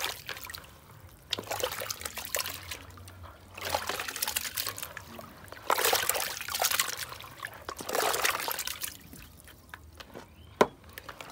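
Meat is washed in a bucket of water in Kibera, Kenya: irregular bursts of splashing, trickling and pouring, several separate surges with quiet gaps between, close by and moderately loud, ending with a sharp knock.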